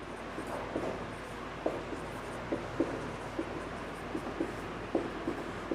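A pen scratches across paper in short, quiet, irregular strokes over a low steady background hum, with no one speaking.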